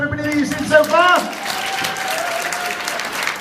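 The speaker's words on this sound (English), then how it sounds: "can we have a big round of applause for everybody that you've seen so far?" Conference audience at SlimCon 2017 clapping, a burst of applause rising under a voice at the start, then settling into a steady, moderate patter of hands.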